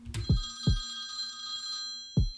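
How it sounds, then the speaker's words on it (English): An old-style telephone bell rings in the video game Moe Era, a bright sustained metallic ring punctuated by several heavy thudding strikes, fairly close and clear. "The second I say that, the phone starts ringing again."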